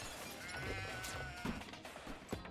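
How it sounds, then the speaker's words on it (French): A sheep bleats inside a house in the cartoonish moving game Moving Out, short wavering cries over steady game music and clatter of objects, with no speech. "Il y a un mouton dans la maison."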